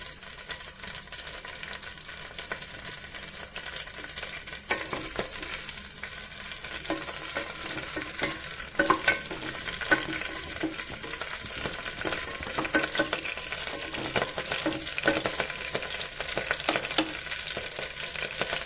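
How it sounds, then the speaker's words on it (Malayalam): Curry leaves crackle and sizzle in a hot pan for a cauliflower stew, with continuous frying hiss and repeated stirring scrapes, fairly close and steady with sharper pops in the middle stretch. "വേപ്പില ഇതിലേക്ക് ചേർക്കുകയാണ്"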